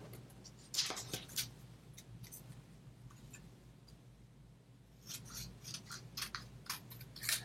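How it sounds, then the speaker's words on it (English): Scissors cut paper card pieces for a craft, with a few quiet, crisp snips early on and a denser run of faint snipping near the end, close by with no talking. "Okay, so now we get to cut these out."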